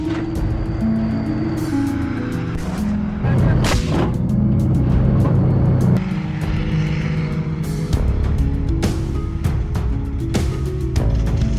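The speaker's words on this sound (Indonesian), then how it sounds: "rentetan tembakan yang diarahkan ke titik pertahanan musuh benar-benar mengerikan" A Russian T-72B3M tank fires on enemy positions: repeated heavy booming blasts, a few seconds apart, break over a dense rumbling backdrop.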